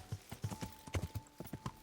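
Horse hooves clip-clopping in a steady riding gait in Kingdom Come Deliverance, a quick, even rhythm of close, distinct hoof strikes without talk.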